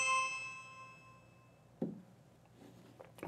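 Ring video doorbell alert chime sounding from a phone, a soft bright tone that sustains and fades over about a second and a half, followed by quiet handling knocks and taps.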